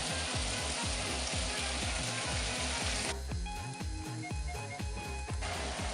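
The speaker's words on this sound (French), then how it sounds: "Une fois votre beurre fondu, vous pouvez ajouter vos 4 filets de sole dans la poêle." Four sole fillets sizzle steadily in melted butter in a frying pan, a continuous close crackle with a dense, even spitting texture and no talking.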